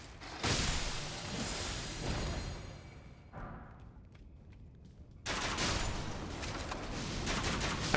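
Exploding blood zombies in Elden Ring bursting into loud, broad blasts, a heavy eruption near the start and another around the five-second mark, with a quieter lull between.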